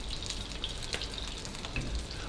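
Chicken sizzles quietly in oil in a wok pan, a steady faint crackle and hiss with a few small pops throughout.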